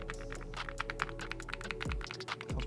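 Rapid clacky keystrokes on an F75 Pro keyboard fitted with Reaper switches, close and fairly loud, with an irregular typing rhythm over a faint background hum.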